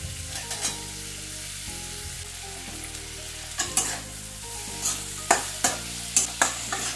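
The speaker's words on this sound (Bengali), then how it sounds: "ভালো করে সমস্ত সবজিগুলোকে একটু ভাজা ভাজা করে নিচ্ছি" Potato and cauliflower pieces frying with tomato in a pan for a vegetable curry, a continuous sizzle broken by frequent spatula stirs and sharp scraping clicks, close and with no voices.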